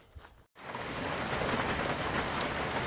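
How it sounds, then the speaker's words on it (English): Steady heavy rain pours over a bayou during a stormy afternoon, with a dense, continuous hiss of drops on surfaces and a low thunder rumble, uninterrupted and without voices after a brief quieter moment at the start. "it's a rainy, stormy afternoon and evening here on the bayou"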